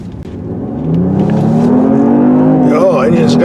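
A 2021 Genesis GV80 SUV engine revs up and pulls hard, its rising whine climbing in pitch over a few seconds, loud and close, with wind and road noise.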